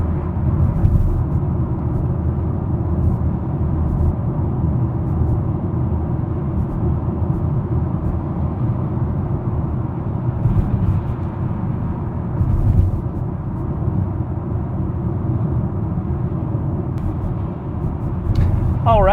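Cabin of a moving BMW on its factory tires and stock setup, with a steady low road and traffic rumble droning continuously and some faint higher hiss, loud and unbroken throughout.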